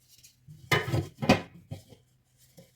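New cooking pots and a lidded fry pan being handled, a few distinct metallic clanks and lid knocks in close succession, then quiet.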